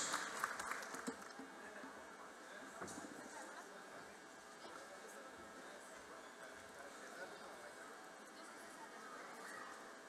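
Applause welcomes the newlyweds at a wedding dance. The clapping is steady and dense, blended with crowd murmur and voices throughout, and is slightly stronger at the start.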